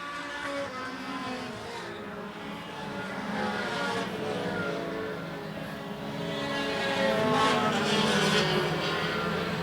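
Race cars roar around an oval track during a 2023 race, several engines blending into a steady, swelling drone that grows louder toward the end as the pack passes nearby.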